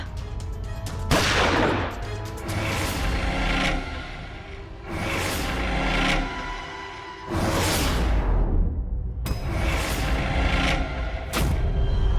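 Several sharp gunshots ring out at intervals, each with a loud crack and a trailing echo, over a steady background rumble.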